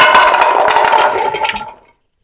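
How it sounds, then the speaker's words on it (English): Washed palm fruit tumbles into a cooking pot in one continuous rattling, splashing pour lasting under two seconds, loud and close, then tapering off to silence. "Now I'm going to pour it into the pot"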